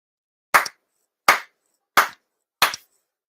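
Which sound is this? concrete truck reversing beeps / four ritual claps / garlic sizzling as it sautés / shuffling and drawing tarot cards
four ritual claps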